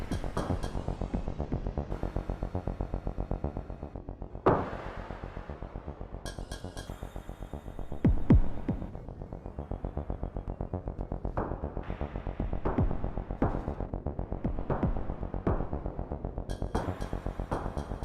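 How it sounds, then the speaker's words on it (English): Afterneath Eurorack module with its LFO quantized: a steady pulsing, throbbing synth texture that changes in stepped jumps instead of a smooth sweep, with periodic brighter bursts, moderately loud and continuous, with no voices. "you can hear the LFO is no longer smoothly sweeping. It is now kind of adjusting."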